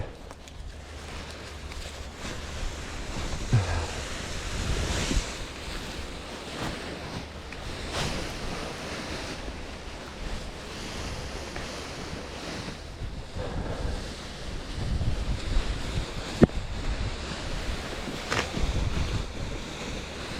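Gusty wind blowing outdoors at an airfield, a steady broad rush with stronger surges and buffeting against the microphone throughout, no talking.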